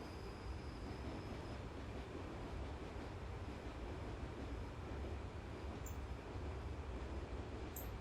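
A Rhaetian Railway train runs on the Albula Line in Train Simulator, with a steady, quiet low rumble and rolling wheel noise throughout and no voices.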